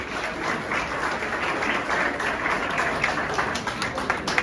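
Students clap together in a steady, dense round of applause at a youth spiritual awareness conference, loud and continuous throughout with no pause.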